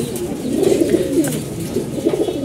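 Rolling coos from a small flock of kept pigeons sound close and continuous, overlapping one another against a faint ambient hum.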